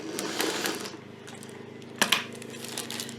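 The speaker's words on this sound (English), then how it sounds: "I'm just going to sew on the line of the petals." Home sewing machine stitching along the petal lines of a crazy quilt block, giving a rapid mechanical whirring chatter with a couple of sharper clicks partway through, close and steady with no talk.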